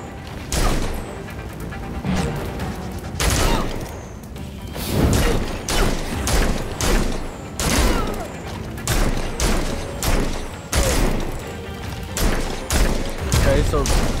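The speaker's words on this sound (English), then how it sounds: "Enjoying the fireworks." Fireworks bursting in the video game Gotham Knights, a dense run of loud booms and crackling blasts repeating every second or so over steady background noise, with voices talking in between.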